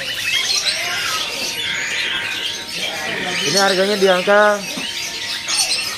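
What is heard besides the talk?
ciblek gunung bird calling at a bird kiosk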